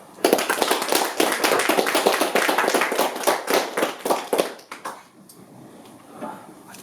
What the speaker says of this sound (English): a round of applause for Dominic.